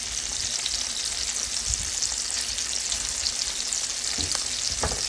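Vegetables saute in a hot pan for a breakfast egg casserole, a dense, continuous sizzle with occasional soft clacks of the utensil, close and steady throughout.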